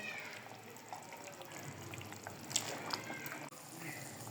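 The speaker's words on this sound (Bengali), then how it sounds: "সেদ্ধ হওয়ার জন্য পরিমাণ মতো পানি দিব" Water pours quietly into a cooking pot holding potatoes and Malabar spinach seeds, a soft continuous trickle with a few small splashes and clinks, faint and steady throughout.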